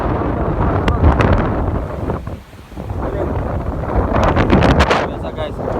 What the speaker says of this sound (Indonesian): makanya anginnya kencang banget